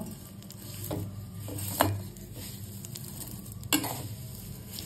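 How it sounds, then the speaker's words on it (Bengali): Vermicelli fries in ghee in a pan, a soft steady sizzle broken by two distinct scraping stirs of a spoon against the metal, fairly quiet and close. "সিমুইটাকে একটু হালকা করে এবার ভেজে নিলাম"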